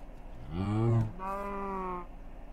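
A cow in Minecraft gives two drawn-out, mid-pitched moos back to back, clear and fairly close, with no talking over them.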